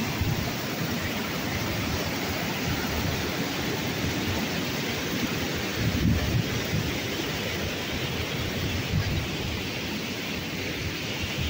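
A mountain stream flowing down from Sky Lake in Jumla gives a steady, loud rush of water that stays even and unbroken throughout, with no voices.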